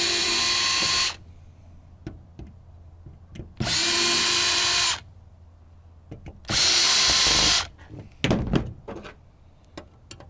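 A power drill backs screws out of a server switch in three separate bursts of about a second each, with pauses between them filled by close clicks and knocks from handling.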